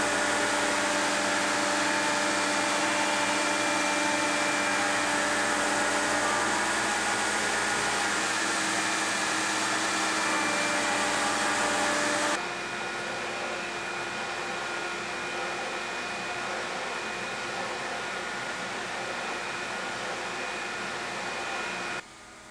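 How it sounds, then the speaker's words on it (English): A belt grinder shapes a wooden handle for a forged ball peen hammer in a workshop, a loud, continuous whirring hum with a steady grinding hiss that drops in pitch partway through. "belt grinder is the most comfortable tool to use"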